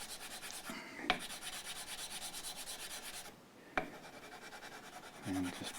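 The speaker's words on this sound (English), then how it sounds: "just smooth it off with the 240 grit." Sandpaper of 240 grit rubbing a Tusq guitar nut smooth on a Fender-licensed Strat-style guitar, a steady close rasping scrub with a couple of brief knocks and a short pause partway through.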